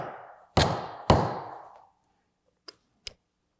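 Metal tool tapping a pin out of a Harley M8 oil pressure relief valve: two sharp, ringing strikes close together that decay, then two faint, brief ticks after a pause, with no talk.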